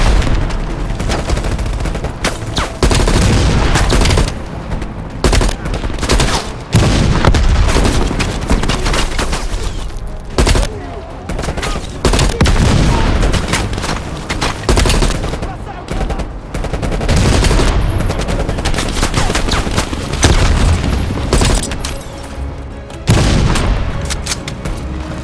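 Heavy gunfire and explosions fill a Call of Duty Black Ops Cold War firefight, with rapid machine-gun bursts and deep booms in a dense, continuous barrage. Shouted voices come through faintly in places.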